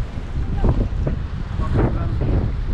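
Strong wind buffets the microphone during ultralight fishing, a loud rumbling roar with gusting surges throughout and faint voices mixed into the noise.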